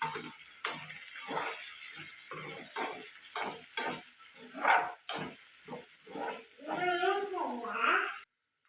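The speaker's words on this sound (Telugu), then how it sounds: "ఇప్పుడు బాగా కలుపుకొని మూత పెట్టకుండా ఇలాగే ఫ్రై చేసుకోవాలండి." Potato and carrot stir-fry in an uncovered pan with a continuous sizzle and stirring scrapes, while a voice talks over much of it.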